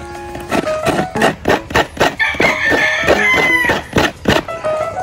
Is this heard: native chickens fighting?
yes